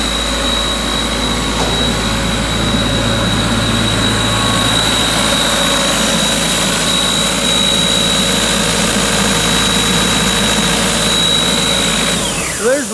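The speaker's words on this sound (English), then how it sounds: "Demo, guys, on the 2005 INGERSOLL-RAND 185 air compressor." A 2005 Ingersoll-Rand P185WJD towable air compressor with a John Deere diesel engine runs steadily for the whole stretch, a loud continuous drone with a sustained whine, winding down slightly at the very end.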